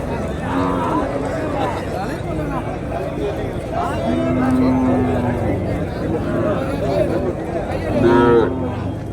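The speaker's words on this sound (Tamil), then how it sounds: "எல்லா கிடாரி கண்ணுக்குட்டி காளை கண்ணுக்குட்டி எல்லாமே இருக்குது." Cattle and calves at a native cattle market in Tamil Nadu lowing and mooing loudly and close by, several drawn-out calls over a busy background of people talking.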